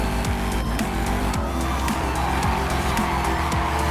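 A car drifts in Forza Horizon 5, its engine roaring continuously while tires squeal in repeated sliding swoops, loud and close throughout.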